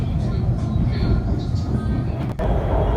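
A Shanghai Metro line 16 train runs along the line with a steady loud rumble and rattle heard from inside the carriage, continuous throughout with a brief dip near the end.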